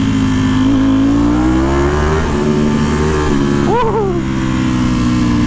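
A 2018 Ducati Panigale V4 S with a full Akrapovic exhaust in race mode revs loudly and close by, a sustained rising engine roar with a sharp blip of throttle near the end.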